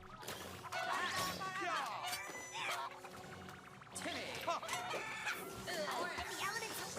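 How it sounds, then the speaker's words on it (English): Clucking chickens from the mobile card game South Park Phone Destroyer, mixed with crashes and thwacks of battle effects over a busy game soundtrack, moderately loud throughout. "Let's go with the chickens."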